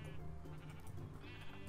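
Sheep bleating in a Minecraft-style building game, a short wavering bleat that sits faint behind steady game background sound, with no talk over it.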